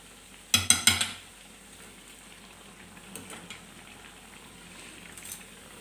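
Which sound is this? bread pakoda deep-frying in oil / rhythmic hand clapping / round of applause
bread pakoda deep-frying in oil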